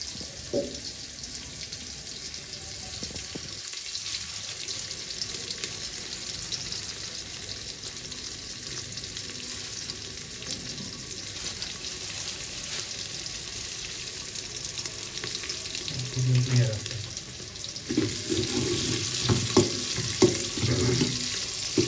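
Steady sizzle of onions frying with cumin seeds in a pan, with running-water-like hiss, continuous throughout, growing busier and louder near the end with some clatter.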